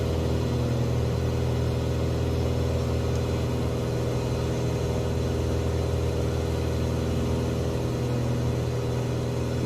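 Simulated Piper PA-28R Arrow III in Microsoft Flight Simulator 2020, its piston engine droning with a steady tonal hum and airflow rush, loud and unchanging throughout with no voices.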